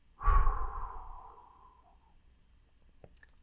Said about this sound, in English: Now breathe out.